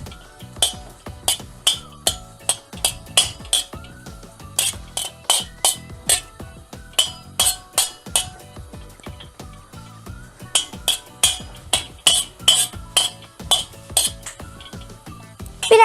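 Tantuni meat with a little tomato juice is stirred in a pan, with a utensil clinking and scraping against the metal in quick, uneven strokes, crisp and close, and no talking.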